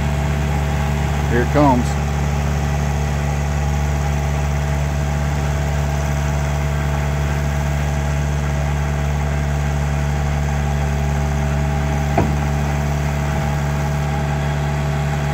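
An asphalt paving machine surfacing a driveway runs with a steady low engine drone throughout, with a brief voice near the start and a faint clank later.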